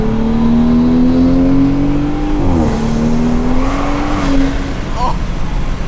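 A car fitted with a Pure 800 turbo pulls hard under full acceleration, a loud, close engine roar climbing in pitch, dipping briefly at a gear change, then rising again before easing off.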